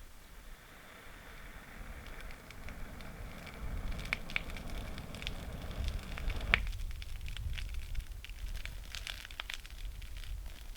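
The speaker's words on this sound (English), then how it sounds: "Let it bake and snap and crackle a little bit." Close campfire lit with birch bark, a soft roaring burn with scattered snaps and crackles that grow busier partway through, with one sharp pop standing out and no voices.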